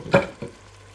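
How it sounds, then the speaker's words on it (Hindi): Mutton browns in a pot while yakhni pulao is being made, with two brief stirring scrapes over a faint sizzle, close and without voices. "यहाँ गोश्त डाल दिए, अब इसको भून रही हूँ"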